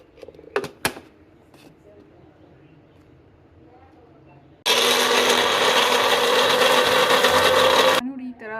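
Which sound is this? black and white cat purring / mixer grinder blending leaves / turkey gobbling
mixer grinder blending leaves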